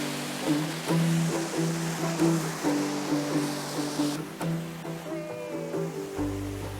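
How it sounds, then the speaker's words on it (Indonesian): Purwosari waterfall pours down heavily in a broad, steady rush of water, constant and fairly loud, with a low hum and some tonal background noise running beneath it. "Menikmati air yang jatuh ke bawah dengan begitu deras dan gagahnya."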